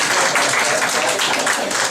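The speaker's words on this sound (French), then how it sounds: "On peut les applaudir." A small audience applauds performers at a show in a media library in Vence, the clapping dense and steady throughout without any voices over it.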